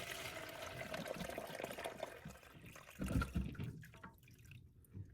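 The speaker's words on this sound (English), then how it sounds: "flush the toilet until you get as much of the water out of the tank as you can" Kohler toilet flushing as its tank drains, a broad rush of water that surges loudest midway through, then tapers off to a quieter trickle.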